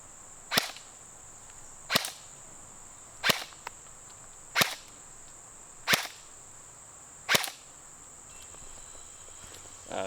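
A G&G Combat Machine airsoft rifle fires 0.20 gram BBs through a chronograph, six sharp single shots spaced about every second and a half, each a crisp snap over a steady high-pitched whine.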